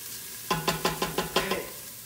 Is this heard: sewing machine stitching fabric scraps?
no